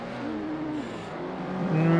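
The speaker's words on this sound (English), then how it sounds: "This could get very interesting with 3 cars fighting it out." Several race cars engines roaring close together through a narrow, walled street circuit, a continuous loud drone with rising revs and pitch shifts toward the end as they battle bumper to bumper.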